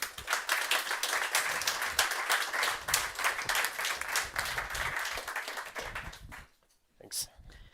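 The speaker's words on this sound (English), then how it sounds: "Please give him a round of applause." Audience applause fills a tech summit hall for a presenter taking the stage: dense, sustained clapping from a large crowd for about six seconds, then fading out, with a brief final burst near the end.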